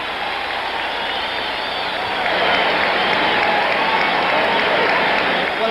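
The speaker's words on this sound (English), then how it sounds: "What a cheer for Quarry" A boxing crowd roars and applauds for Jerry Quarry during his fight with Muhammad Ali, a dense, loud, continuous wall of cheering and clapping that swells slightly partway through.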